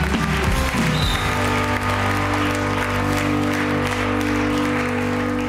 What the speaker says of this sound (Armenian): Եկեք ծափարենք Գորին։